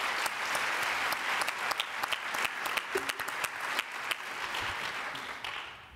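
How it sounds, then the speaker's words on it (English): Conference audience applauding a panel at a Rail~Volution 2012 session, a dense sustained patter of many hands with a few sharper claps, steady throughout and tapering slightly at the end. "So an applause for our panelists"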